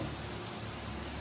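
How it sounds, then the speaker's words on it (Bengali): Steady rain falls in an even, continuous hiss of drops, with no breaks and no other sounds. "তার মধ্যে সেই বৃষ্টি বৃষ্টি বৃষ্টি বৃষ্টি হয়েই যাচ্ছে"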